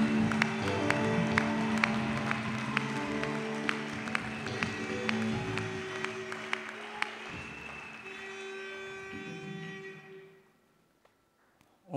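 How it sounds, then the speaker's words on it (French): A church congregation claps and cheers loudly for a pastor, dense sustained applause with sharp accents that fades out near the end into quiet. "J'aimerais qu'on l'acclame très,"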